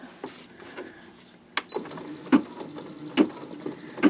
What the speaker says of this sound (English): I'm going to let that sew a few stitches.